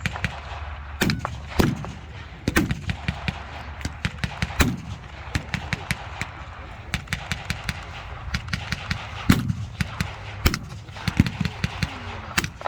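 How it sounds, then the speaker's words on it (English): Gunfire and artillery booms in a WWII battle reenactment: sharp rifle cracks and rapid bursts crackle throughout, with heavier booming blasts every few seconds, loud and fairly close. "The artillery begins to land amongst the Germans and inflict losses on their experienced ranks"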